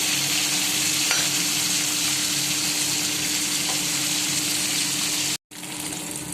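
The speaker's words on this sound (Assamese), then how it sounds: "মাছটো কাঢ়াকৈ ভাজিছোঁ।" Fish, a boneless variety chosen for children, fries steadily in hot oil in a pan, giving a continuous even sizzle close by with a very brief break near the end, and no one speaking.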